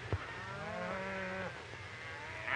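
Cattle on the open Montana range bellow a single long, drawn-out moo at moderate distance, with faint outdoor background and no speech.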